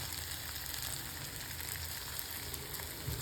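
Okra with fresh coriander sautés in a pan with a steady, soft sizzle and faint crackle, close and even throughout, with no voices.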